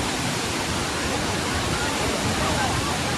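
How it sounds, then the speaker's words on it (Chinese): Yellow River water thunders over a waterfall in Shanxi, a dense, unbroken roar that stays loud and steady throughout with no pauses. "看这个水雾，黄河水，惊涛骇浪了呀"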